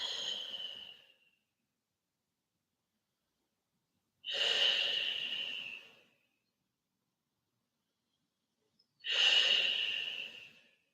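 Three slow, deep breaths during a yoga flow, each a soft rushing exhale of a second or two separated by long silent pauses, close and fairly loud with no talking.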